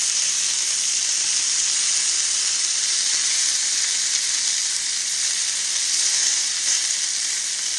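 Beef sizzles loudly in a hot pan as it is turned over, a steady dense frying hiss throughout with no voices.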